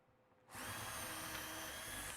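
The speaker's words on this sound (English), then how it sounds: "This is a 4mm drill bit that I'm using, brad point." A power drill with a 4mm brad point bit bores a clean hole while a resin-pour mould is being made. It starts after a short quiet lead-in, then runs as a loud, steady, close whirring grind to the end.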